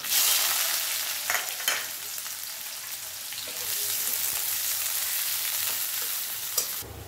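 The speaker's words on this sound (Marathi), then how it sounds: "त्यामध्ये मी थोडीशी मोहरी घालत आहे, नंतर जिरे टाकत आहे आणि हा कांदा आपल्याला गुलाबी परतून घ्यायचा आहे" Onion sautéing in hot oil with mustard seeds and cumin for a Maharashtrian vegetable dish, giving a steady loud sizzle and crackle throughout with a few brief stirring scrapes and no talk.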